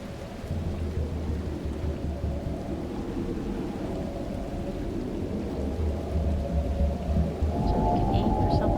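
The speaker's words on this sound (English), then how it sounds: "Wish this rain would go away." Heavy rain and rolling thunder in the video game The Last Caretaker: a dense, constant downpour hiss with deep rumbles underneath, building slightly toward the end.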